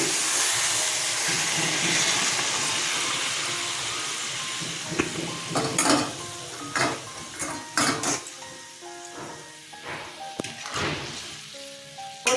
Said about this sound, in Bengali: বেগুন দিয়ে দিলাম একটু কষিয়ে জল দেবো আমি গরম জল দিয়ে দিচ্ছি